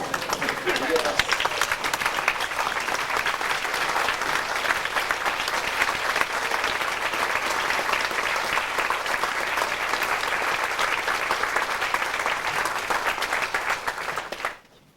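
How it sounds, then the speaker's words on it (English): Sustained loud applause from a large audience giving a standing ovation to young award winners at a community service awards ceremony, steady clapping throughout before cutting off abruptly at the end. "How about a standing ovation for these fabulous young people?"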